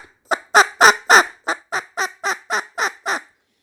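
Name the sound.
staccato clucking notes on a reed instrument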